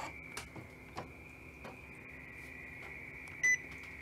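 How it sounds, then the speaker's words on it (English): An Epson P600 printer restarts with faint ticking clicks over a steady electronic whine, ending in a short high beep, quiet and close. "I am restarting the printer now."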